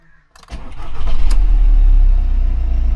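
A budget car with its engine management light on, never heard running before, cranks and fires on the first try, then settles into a loud, steady idle with no talking over it.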